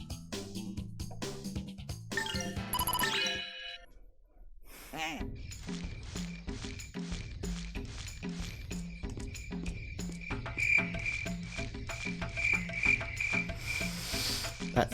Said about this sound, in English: Oh, you mean the sound the enemy makes?